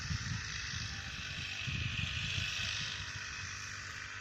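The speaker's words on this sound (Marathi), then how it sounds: "तर बघा पेट्रोल पंपाने फवारणी पटकन होती ना" A small petrol-engine crop sprayer pump drones continuously at a steady pitch while spraying maize, close by, with a faint rough rumble pulsing underneath.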